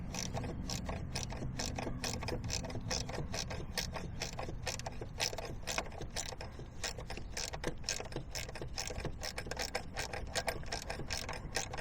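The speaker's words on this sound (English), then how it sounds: "I'm going to need to take this bolt completely out of that bracket" A bolt is worked out of a bracket on a Husqvarna mower deck, giving a long run of rapid ratcheting clicks and metallic rattles, close and steady with no voices.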